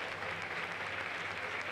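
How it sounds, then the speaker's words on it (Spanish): A stadium crowd at a Spanish lower-league football match between Linares Deportivo and Atlético Malagueño applauds in a steady, even wash of clapping that holds throughout. "Aplausos."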